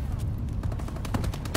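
Game gunfire in Call of Duty: Advanced Warfare crackles as rapid bursts of shots, loud and close, in a dense, uneven volley lasting the whole moment.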